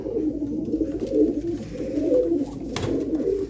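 Pigeons coo steadily nearby, a low throaty burbling that rolls on in overlapping waves, moderately loud with no talking.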